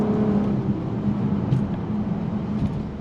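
A 2023 Nissan Maxima V6 engine hums steadily from inside the sport sedan, a smooth continuous drone running at a fairly constant pitch, with no talk over it.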